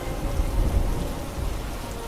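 Heavy rain pours steadily under a low, rolling rumble of thunder, a dense continuous storm sound used as a flood sound effect, with no voices.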